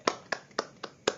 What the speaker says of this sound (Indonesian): Tepuk tangan untuk Kiwa.